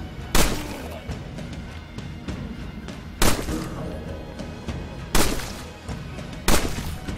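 Gunshots ring out in the zombie survival game State of Decay, four sharp loud reports spaced irregularly over a steady background of game ambience and rustle.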